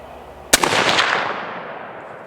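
A single close, sharp Mosin Nagant M91/30 rifle shot cracks out, followed by a long rolling echo that slowly fades over outdoor background noise.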